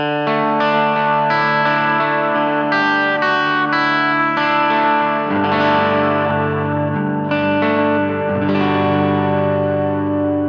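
Clean electric guitar through a Fender Princeton amp model plays ringing single notes and then fuller sustained chords, with a warm amp tone, loud and close.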